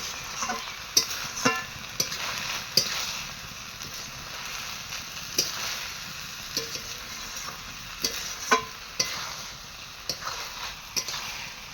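Food stirred in a pan after sugar goes in, a continuous frying sizzle with irregular clinks and scrapes of a utensil against the pan, near and clear, with no speech.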